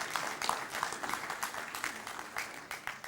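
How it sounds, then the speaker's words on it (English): Applause from an audience in a conference hall during a police ethics forum, a fairly quiet, steady patter of many hands clapping at a distance, continuing throughout with no clear voices above it. "I think a round of applause for Bob."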